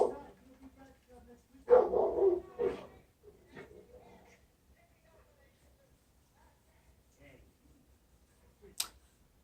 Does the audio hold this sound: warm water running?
no